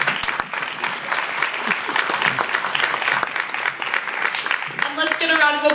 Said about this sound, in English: We give one more round of applause for our competitors tonight.